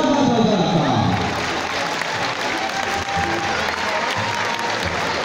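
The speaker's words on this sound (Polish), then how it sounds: "I lądowanie! Brawa!" Crowd applause at a football match as a parachutist lands during a halftime skydiving show, loud clapping from many spectators with an announcer's voice at the start, easing slightly but continuing steadily.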